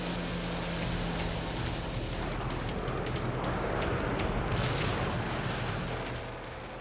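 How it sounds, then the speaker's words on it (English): A massive WWII bombardment of a Pacific island rolls on as a dense, continuous roar of gunfire and explosions, loud and unbroken, with no voices. "for 75 days the island is pummeled with a massive bombardment"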